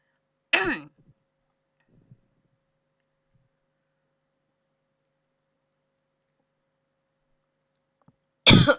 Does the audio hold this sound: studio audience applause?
no